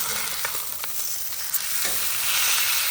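Ribeye steak sizzles in butter on a Traeger Flatrock griddle, a loud, steady crackling hiss that carries on with no talk over it.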